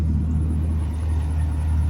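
A modified car engine idling with a deep V8-like burble, a steady low rumble that holds close and constant throughout.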